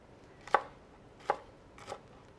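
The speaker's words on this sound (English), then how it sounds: "Okay, I'm going to cut this down even more." A kitchen knife chopping food on a board, three distinct sharp chops spaced under a second apart, close and clear with no talking.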